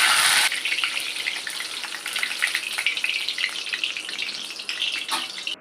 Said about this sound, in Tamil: எண்ணெய் நல்லா கடாயில் காய்ஞ்சிட்ருக்கு கருவேப்பிலையை கொஞ்சம் நம்ம போட்டு வறுத்து எடுத்துக்கலாம்